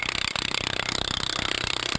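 A concrete curb is being cored with a core drill, producing a loud, continuous grinding roar with a fast, regular chatter throughout.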